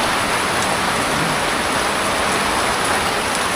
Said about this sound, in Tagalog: Ayan, lakas ang ulan.